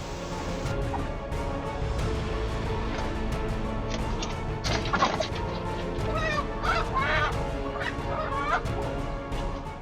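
Chickens squawk and cackle in a continuous, agitated chorus while fighting off a crow, with harsher bursts of shrieking calls rising midway through.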